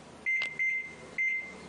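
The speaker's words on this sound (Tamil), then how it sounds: "இதை வந்து நம்ம ஒரு 3 minutes மைக்ரோவேவ் பண்ணிடலாம்" Kitchen microwave oven running for three minutes: a steady tonal beep-like hum near the front, with three clear sustained tones starting and stopping at intervals over a low background, no talking.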